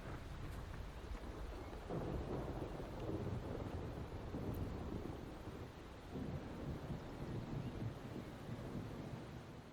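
Steady rain falls in the video game Wuthering Waves, with low rolling thunder swelling and fading in the distance, all fairly quiet and continuous.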